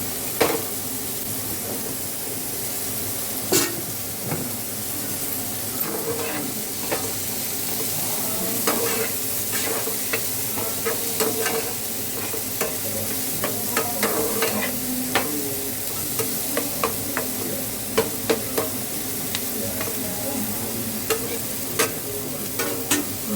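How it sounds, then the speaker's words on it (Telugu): Sliced onions with a little salt fry in a pan for home-made chicken fry, a steady close sizzle with frequent scraping and clinking as they are stirred, no talk. "ఉల్లిపాయలు వేగనిద్దాం"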